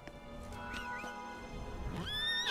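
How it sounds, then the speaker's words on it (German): A horse in The Witcher 3: Blood and Wine gives a brief neigh over low game ambience, with a rising whinny toward the end. "Plötzlich kommt das Pferd da um die Ecke."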